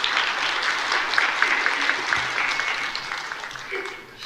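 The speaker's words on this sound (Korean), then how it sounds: "우리 박수로 한번 격려할까요?" A church congregation applauds during a Sunday worship service, a steady wash of many hands clapping at moderate distance for about four seconds, with no talking over it.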